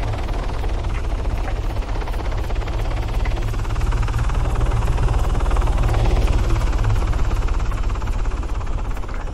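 Video game helicopters in a multiplayer military match thudding with dense, continuous rotor chop and engine roar, loud and sustained with no talk over it.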